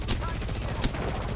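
Rapid gunfire in the video game Apex Legends, dense bursts of automatic shots with a louder crack near the middle, steady and close under a voice.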